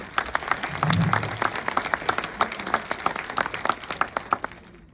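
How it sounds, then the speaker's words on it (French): Applause from a cinema audience at a film premiere at a Kinepolis theatre: a continuous, fairly distant patter of many hands clapping that lasts throughout and slowly thins out. "On peut applaudir Barthélémy qui va être dans cette tâche."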